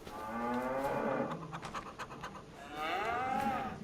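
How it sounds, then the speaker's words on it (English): A cow on a farm in Farming Simulator 25 lets out two long, low moos separated by a short pause, fairly quiet and close, with light scratching between the calls and no talk. "They let out a moo of thank you."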